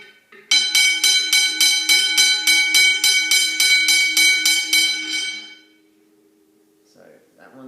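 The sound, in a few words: Westinghouse hybrid bells ringing, one low pitched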